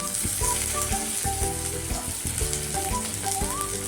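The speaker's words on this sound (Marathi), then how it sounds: "लसणाची फोडणी" Garlic tempering with cumin sizzles and crackles steadily in hot oil for a Maharashtrian matki usal, a dense continuous fry heard close up with occasional stirring clinks against the pan.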